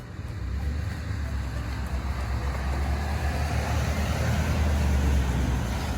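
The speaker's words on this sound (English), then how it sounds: "Now let's take it for a test drive." A 2008 Dodge RAM 1500 pickup truck drives along steadily after a rear differential rebuild, its low engine rumble and road noise continuous and fairly loud from inside, with no talking.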